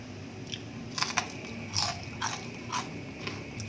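Crisp bites into fried radish cake with shrimp and garlic give several sharp, close crunches spaced about half a second apart, followed by softer chewing, with no talking.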